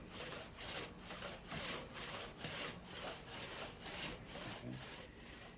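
A hand saw rasps through a tree being cut for lumber in the American Highlands, producing steady rhythmic back-and-forth strokes, roughly two per second, close and moderately loud with no voices.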